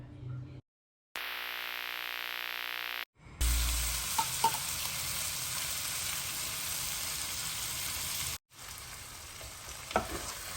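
Onions and garlic fry in hot cooking oil for a home-style corned beef sauté, giving a loud, steady sizzle with stirring scrapes. A tonal beep and short silent gaps break it up near the start and the end.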